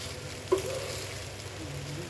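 Maggi noodles fry in a pan with a soft, continuous sizzle, faint and even, broken by a single small clink early on.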